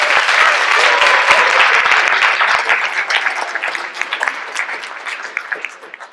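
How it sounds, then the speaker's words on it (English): An audience at a dance troupe show claps loudly and densely, then the applause thins into scattered individual claps and fades out. "Give him a round of applause."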